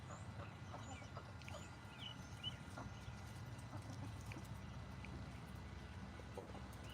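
Chickens cluck and call in a backyard chicken run on an afternoon, with scattered short calls over a steady low rumble and hiss that runs throughout.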